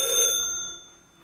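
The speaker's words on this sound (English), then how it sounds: "That's the Ham Shack hotline ringing there." A single short bell-like ring from the Ham Shack hotline telephone strikes and fades away quickly, clear and fairly close.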